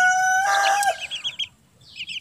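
Bangkok and KUB crossbreed chickens, a small flock of six: a drawn-out crow-like call opens, followed by a series of short, near clucks in quick bursts, with a brief pause and more clucking at the end.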